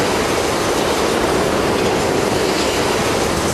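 A subway train rumbles at a station platform, a steady, loud, broadband roar of wheels and carriage noise with faint clattering throughout, no talking.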